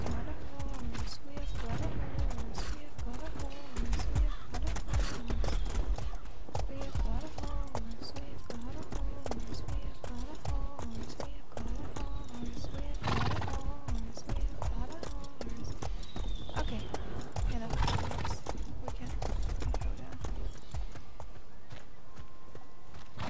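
Horse clip-clop hooves with a brief whinny in the medieval combat game War of the Roses, steady rhythmic hoofbeats running throughout under game music, battle noise and talking voices.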